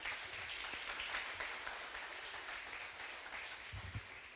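A church congregation at Lagoinha Venda Nova applauds, a steady wash of clapping at moderate distance that continues evenly throughout without pause.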